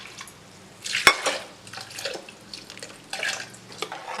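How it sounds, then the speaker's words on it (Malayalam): Water poured into a pan of fish curry with ground coconut gravy, a short splash and trickle with a sharp clink against the pan, then soft stirring and scraping nearby. "ആവശ്യത്തിനുള്ള വെള്ളം ചേർത്ത് കൊടുക്കാം"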